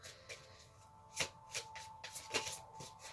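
Playing cards are shuffled by hand in a quiet room, giving faint, soft riffling bursts and light slaps that repeat irregularly, with no talk.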